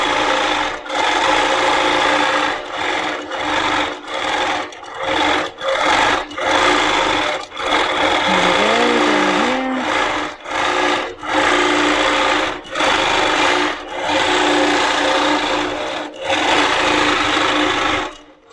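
A Handi Quilter moveable longarm quilting machine stitches in a showroom, loud and close, running in steady bursts with brief pauses between them.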